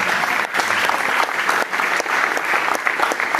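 A church congregation applauds to God, a loud, dense, continuous roar of many hands clapping with slight surges in rhythm throughout, no voice above it.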